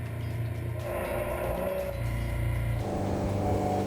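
A Pirelli Pzero T45 hydrojet boat, 4.5 metres long and petrol-fuelled, runs its engine with a steady, close, low drone that stays level throughout.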